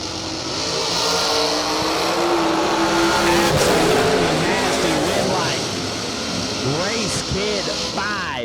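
A hot rod dragster races with steady, loud engine roar that fills the whole stretch. Pitch sweeps rise near the end, and a commentator talks throughout.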